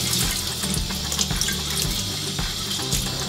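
Tap water runs steadily into a sink while a gutted flounder is rinsed clean, a close, continuous splashing stream with small irregular spatters.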